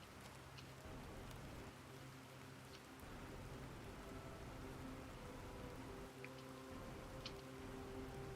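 Steady rain in the survival game Planet Crafter patters continuously on surfaces, a soft, even hiss with occasional faint drip ticks, quiet and uninterrupted with no talk.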